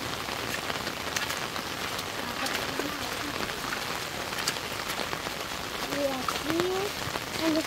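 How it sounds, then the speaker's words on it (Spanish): Steady rain patters on a surface throughout, a dense even hiss with scattered drops; a few faint birdlike chirps rise near the end. "Toda la tarde está lloviendo."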